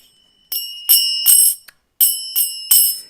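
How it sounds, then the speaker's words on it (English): Little hand bells rung in Krishna devotional singing, seven bright metallic rings in two rhythmic groups with a pause between, each clear and close with a short ringing decay. "I have these little bells here"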